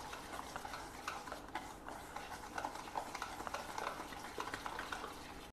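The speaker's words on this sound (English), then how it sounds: "To this we are adding 1 cup of curd, homemade curd, and give it a good mix." Homemade curd being stirred into regular Bombay rava in a bowl, a steady close scraping and mixing with soft clicks of a spoon, continuous and moderately quiet with no voices.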